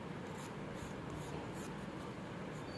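Nail file rasping over rough, uneven nail edges, a steady close scratchy rubbing with faint repeated strokes running continuously without pause.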